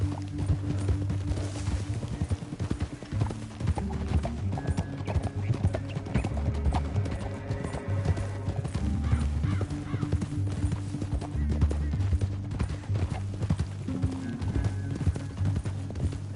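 Horse hooves clip-clopping steadily through the Red Dead Redemption video game, with a whinny rising now and then over a low droning score and ambient sounds throughout.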